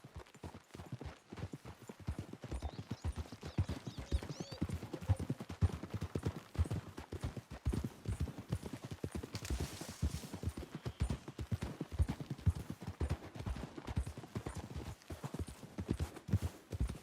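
Steady clip-clop of several horses' hooves trotting on hard ground in the video game Red Dead Redemption 2, rhythmic and continuous, with a faint creak and rustle of riding gear.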